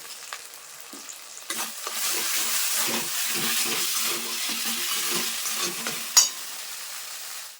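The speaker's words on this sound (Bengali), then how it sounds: "পেঁয়াজ আদা রসুনটা একটু ভাজা ভাজা করে নিয়েছি" Onion, ginger and garlic paste sizzles in a pan while a spoon stirs it in steady, rhythmic scrapes, ending with a sharp clink.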